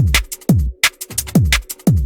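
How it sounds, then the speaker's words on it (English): A liquid drum and bass drum loop built in FL Studio, with punchy, slightly distorted booming kicks and crisp snares and hi-hats in a fast, driving pattern, loud and up front with no talk. "Altogether the main drum loop sounds like this."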